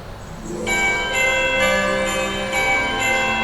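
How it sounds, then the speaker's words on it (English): Synthesized bell tones in a music sequence ring out together in repeated, sustained chiming strikes, bright and layered, with no voices. "Kind of my bells."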